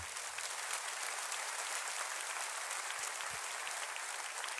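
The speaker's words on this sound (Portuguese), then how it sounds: "você pode aplaudir ao Senhor" Steady, fairly quiet applause from a church congregation, continuous clapping heard at some distance with no voices standing out.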